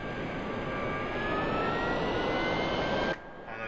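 An MB-339A jet trainer's engine whines loudly in DCS World, a continuous high roar with a slowly rising tone that cuts off abruptly near the end as the canopy closes, leaving only a faint muffled hum.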